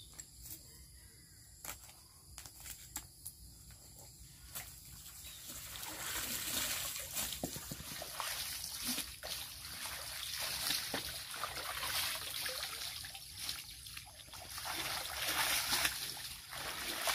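Fresh vegetables being washed in water, with gentle trickling, splashing and swishing that grows steadier and louder partway through, heard close by without talk.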